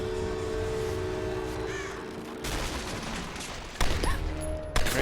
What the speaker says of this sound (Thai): เสียงปืนว่ะ